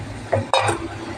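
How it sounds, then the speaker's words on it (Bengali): Chana dal is poured into a pot of Malabar spinach, giving a brief rushing pour and soft clatter over a steady kitchen background, close and fairly loud. "এবারে আমি ছোলার ডালটা ঢেলে দেবো"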